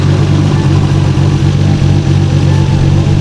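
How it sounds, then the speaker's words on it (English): Car engine running in an open engine bay, camshafts and valvetrain ticking over a steady, loud, close idle hum that holds evenly throughout with no talk. "Listen to them camshafts though, man."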